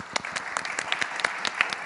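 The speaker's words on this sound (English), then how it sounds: "So I think this deserves a round of applause." A small conference audience gives a round of applause, sparse and fairly distant, with individual hand claps standing out in an irregular patter.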